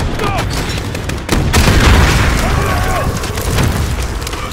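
A grenade blast in Call of Duty Modern Warfare bursts loud and close, with heavy booming and a spray of gunfire around it, while a player's voice cuts in over the combat.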